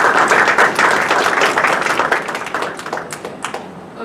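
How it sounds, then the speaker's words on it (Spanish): Loud, dense applause from a lecture audience, steady clapping that gradually thins toward the end. "Para ella, un fuerte aplauso."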